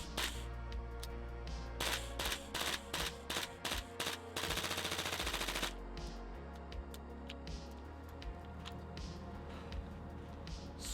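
Tokyo Marui M4 gas blowback airsoft rifle firing, sharp close semi-auto shots in a quick series, then a rapid full-auto burst of about a second and a half, followed by a few more single shots.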